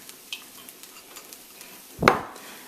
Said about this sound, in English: So in goes the bean sprouts. Just gonna mix it all the way around here